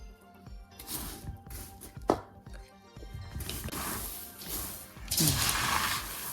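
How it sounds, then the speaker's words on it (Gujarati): Prepared spice masala gets tossed into homemade cereal chivda, with rustling, crunchy stirring of the dry mix, a sharp knock near the middle, and a louder rush of rustling near the end. "હવે આપણે આ તૈયાર થયેલો મસાલો સિરિયલના ચીવડામાં નાખી દઈશું. થોડો થોડો નાખીને બધું મિક્સ કરીશું."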